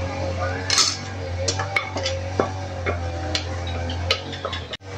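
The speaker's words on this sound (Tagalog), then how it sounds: "Sasalin ko dito sa isang plato." Cooked, softened meat being moved onto a plate in a home kitchen, with scattered clinks and taps of utensil against dish and a steady low hum throughout, fairly close and without talking.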